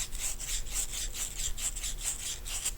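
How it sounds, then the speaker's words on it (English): Fine 220-grit sandpaper rubbing dried old paint off a metal pump part from a Wagner or Spraytech paint sprayer, a close, steady rasping scrape with a quick back-and-forth rhythm of about four strokes per second, without speech. "I'm just using some really fine grit sandpaper. It's 220 grams. 220 grit sandpaper."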